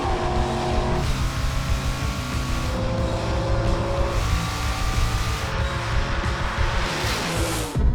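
Drag race at Route 66 Raceway between a 1970 Chevelle and a 2003 S10 in an eight-second All Out class, with loud, continuous engine roar held close throughout and no talk.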